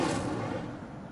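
The Incendio fire spell is cast in Hogwarts Legacy as one brief, loud, roaring burst that fades over about a second, heard alone without talking.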